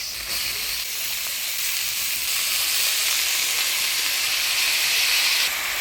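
Cut squash tipped into hot mustard oil with fried shrimp sets off a loud, steady sizzle, a dense hiss that carries on without a break, with nobody speaking.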